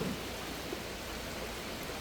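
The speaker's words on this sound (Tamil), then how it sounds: "மழையும் பெய்யிட்டு இருக்கு." Rain falling over floodwaters in Mullaitivu, a soft, steady hiss of rainfall heard up close for about two seconds with no voices.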